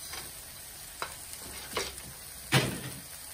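Peanuts are added to chicken and rice in a hot cooking pan, giving a few soft rattling stirs and a sizzling sweep, the last one loudest, over a quiet frying hiss.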